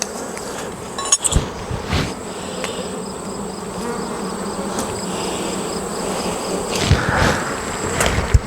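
Honeybees buzz around an opened hive during beekeeping: a dense, steady drone from many close insects, with a few louder passes and faint clinks of hive equipment.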